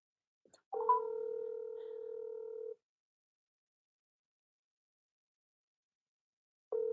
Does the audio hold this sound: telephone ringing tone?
yes